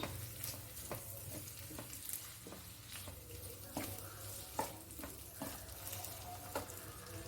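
Ginger frying in coconut oil for a sweet ginger curry: a steady, quiet sizzle with intermittent scraping and stirring clicks of a spoon in the pan, no talk.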